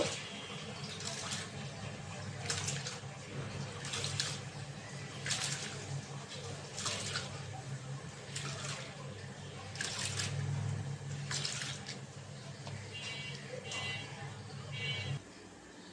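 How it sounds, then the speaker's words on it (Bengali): Rice being washed under running water in a home kitchen before cooking lentils: a steady stream of water pours and trickles, with repeated splashy sloshing bursts every second or so. "চালটা ধুয়ে নিচ্ছি"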